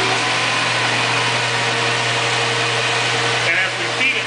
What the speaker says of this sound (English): We'll go ahead and fire up the sander.